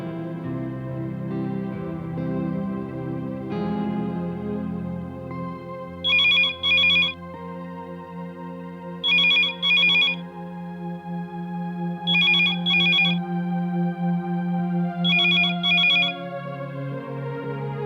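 A telephone rings in a household scene from a Hindi TV drama, sounding in four evenly spaced bursts of double rings over a steady musical backdrop.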